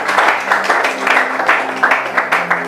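A church congregation at a French-language Bible teaching applauds and cheers, a dense spread of clapping that rises and falls in waves over a low hum, with voices mixed in.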